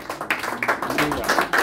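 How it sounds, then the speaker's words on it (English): A church congregation at a Celestial Church of Christ parish in Dublin claps for a trumpeter, with uneven bursts of hand claps mixed under ongoing talking. "Please, a big round of applause for this brother."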